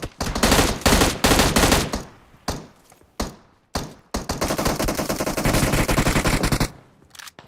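Rapid automatic gunfire in PUBG Mobile, loud close bursts of machine-gun fire broken by short gaps and single shots, ending in one long sustained volley.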